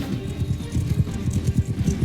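Horse hooves clip-clopping in the video game Mount and Blade 2 Bannerlord, a fast rhythmic galloping beat of repeated low thuds, steady and close throughout.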